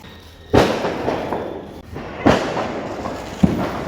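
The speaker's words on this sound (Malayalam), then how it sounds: "ഓലപ്പടക്ക്" Old-style palm-leaf firecrackers go off as three separate sharp bangs spaced over a few seconds. Each blast is followed by a short noisy tail.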